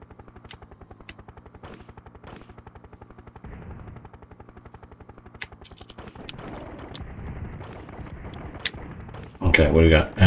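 Rapid gunfire and blasts from the SNES helicopter game Urban Strike, with a steady thudding rotor-like pulse throughout, scattered shots, and a loud burst of explosions near the end.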